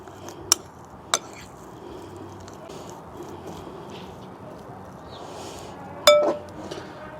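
A few sharp clinks of a utensil against a bowl as sausage stuffing and shredded cheese get mixed, spaced out over a quiet background, with one louder scrape and knock near the end.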